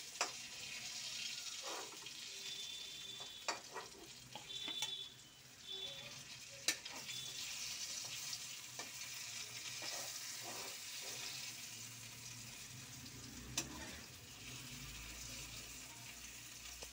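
Green banana koftas frying in hot oil give a continuous close sizzle, with scattered stirring clinks and brief splashy water-like bursts across the stretch and no one speaking.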